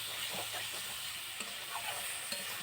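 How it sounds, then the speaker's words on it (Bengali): Chicken pieces stir-fried in spices for a curry, a quiet steady sizzle with soft rhythmic scraping and a couple of light knocks from the stirring utensil. "এভাবে ঘুরিয়ে ঘুরিয়ে ভেজে নেবেন"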